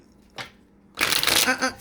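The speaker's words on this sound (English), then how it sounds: "when I do a shuffle" Tarot cards being shuffled during a card reading, a short riffling burst of papery flutter at close range following a brief soft rustle, with no talk over it.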